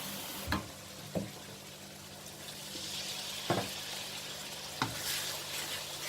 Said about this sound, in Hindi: इसको थोड़ा सा भूनें पहले।